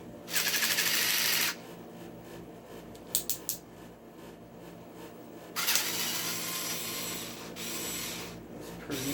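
An electric screwdriver backing screws out of a Nantucket Breeze stand fan, with two loud whirring runs of the motor separated by quiet handling clicks and faint rattles, close up.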